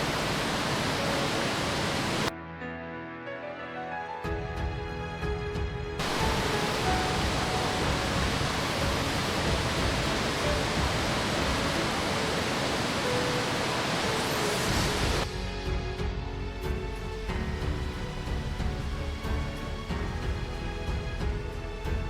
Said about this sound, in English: The floodwaters poured down like a waterfall, rushing through the pedestrian street.